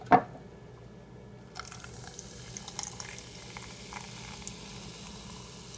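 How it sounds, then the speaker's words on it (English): Coke poured from a bottle into a small novelty monster glass, a soft fizzing and trickling hiss continuing for several seconds after a brief knock, close by with no talk. "Pour my Coke in my little monster glass"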